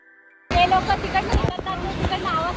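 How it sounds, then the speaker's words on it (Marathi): Niagara's Horseshoe Falls roars at close range, a sudden, loud, continuous rush of water and wind from the Canadian side, with a voice speaking over it. "सर्वात भव्य दिव्य जो दिसतोय तो समोर हॉर्शू वॉटरफॉल आहे"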